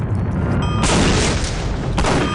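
A rocket explosion in Postal 2 booms out with a sudden broadband blast that swells and sustains for over a second, followed by a second burst near the end, loud and close over continuous game noise.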